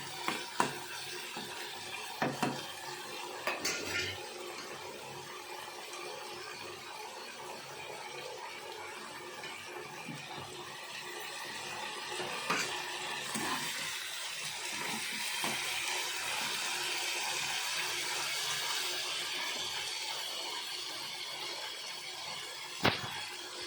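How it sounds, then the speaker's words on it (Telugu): Ash gourd frying in a pan makes a steady soft sizzle throughout, with occasional light taps and scrapes of a spoon stirring. "ఇలా కొంచెం సేపు ఫ్రై చేసుకోవాలి"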